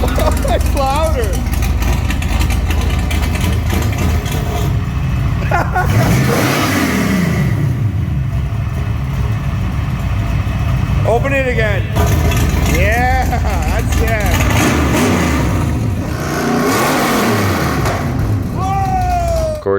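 A Ford 331 V8 with an old carburetor, fitted in an old BMW, revs hard and loud, its roar climbing and dropping in repeated surges over a constant rumble, with people talking over it.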